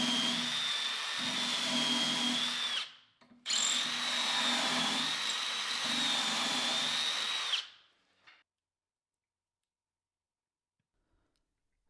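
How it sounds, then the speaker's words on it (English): A hand drill bores 8mm holes in wood through a simple jig, whining in two sustained bursts of a few seconds each with a short pause between, then silence. "I set up a simple jig and drilled the 8mm holes by hand."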